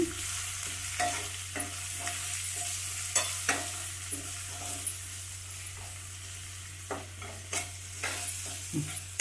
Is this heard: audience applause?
no